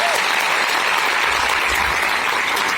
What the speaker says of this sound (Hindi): एक बार उनके सभी के लिए जोरदार तालियां बजा दीजिए।